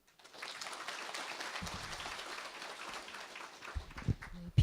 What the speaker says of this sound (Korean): 다시 한번 박수 부탁을 드립니다